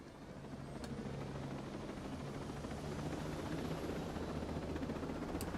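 A helicopter in the video game Ghost Recon Breakpoint drones steadily with a low, rotor-driven rumble that stays fairly quiet but constant throughout, with no talking.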